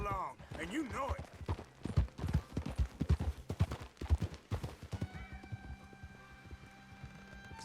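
Horse hooves clip-clop in the Red Dead Redemption video game, a steady trotting rhythm under voices talking.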